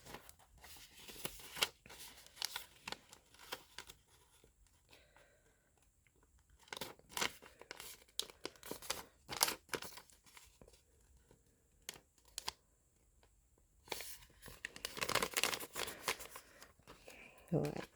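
Paper being folded and creased for Sanrio character origami such as Hello Kitty and My Melody, with crisp crinkling bursts and sliding rustles coming in irregular clusters, close and fairly quiet, and a voice talking between them.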